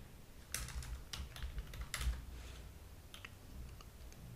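PHP code being typed on a computer keyboard: quiet, irregular clusters of key clicks, close but soft, with short pauses between bursts.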